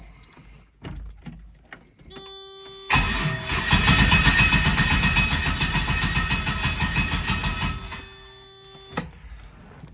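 A swapped LS V8 in an RX-7 cranks hard for about five seconds without catching, a loud rhythmic starter churn that begins abruptly and stops, with clicks and quiet handling noises before and after.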